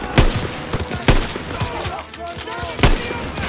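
Gunfire in a World War II battle in the Call of Duty: WWII video game: several sharp, loud shots crack in an irregular volley over continuous battlefield noise.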